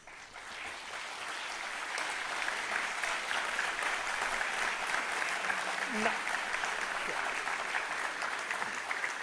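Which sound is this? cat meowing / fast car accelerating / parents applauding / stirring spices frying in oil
parents applauding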